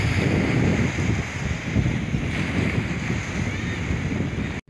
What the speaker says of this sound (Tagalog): Ayan, medyo malakas lang po ang hangin dito.